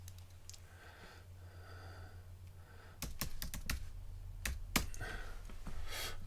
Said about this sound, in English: type some text in